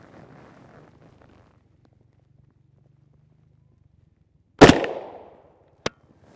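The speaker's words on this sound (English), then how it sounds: "And now we'll take 2 shots from our PDW style barrel." Two gunshots from a 10.4-inch P90 firing 5.7x28mm 40-grain Hornady VMAX rounds into gel: a sharp, loud crack with a ringing tail, then a second, shorter report a moment later, after a faint low hum.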